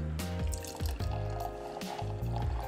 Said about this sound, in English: I'm gonna go ahead and get a pour of some mead